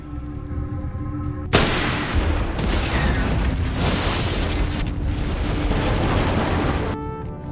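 A sudden loud blast erupts after a quiet tonal passage, followed by several seconds of rumbling, roaring noise before it cuts back to quiet.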